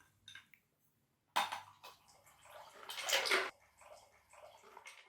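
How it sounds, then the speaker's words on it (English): Pimm's pours into a glass, a brief splashing pour with faint clinks of glass, fairly quiet against a soft room background. "So I'll pour you one as well, Kate."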